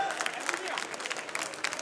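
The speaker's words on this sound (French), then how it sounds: "un peu d'applaudissements." An audience claps briefly in a lively room, with scattered hand claps and crowd murmur over a short burst of applause.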